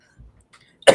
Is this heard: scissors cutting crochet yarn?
no